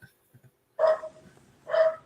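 A dog barks in the background of a home setting, two loud bursts of barking about a second apart after a brief quiet stretch, with faint yips between them.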